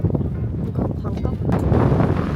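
Strong wind buffeting the microphone in a low-lying desert area below sea level, a loud continuous rumbling blast for the whole moment.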